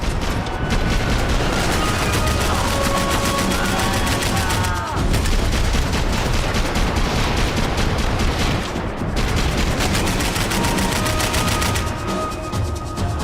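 Sustained weapon fire in a video game, dense overlapping shots and booms that continue loud and close for the whole stretch with only brief dips, and voices faintly beneath the din.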